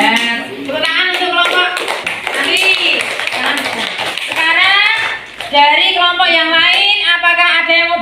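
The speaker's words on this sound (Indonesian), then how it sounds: "tepuk tangan untuk kelompok" In a primary classroom, children clap for a group presentation, with loud, bright young voices chanting over the rhythmic taps and claps close by.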